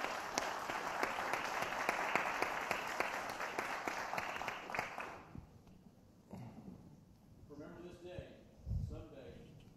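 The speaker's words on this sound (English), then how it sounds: "give our panelists a round of applause" Audience applause for panelists at a medical research general session, a full crowd clapping for about five seconds before fading out, followed by someone speaking near the microphone.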